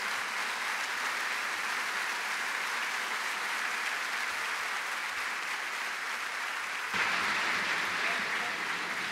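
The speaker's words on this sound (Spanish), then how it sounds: "Pido un fuerte y cariñoso aplauso para recibir en este escenario al señor Rudolph Giuliani." An audience at a business conference gives sustained applause to welcome a speaker onto the stage, a dense, even clatter from a large crowd that swells slightly louder near the end.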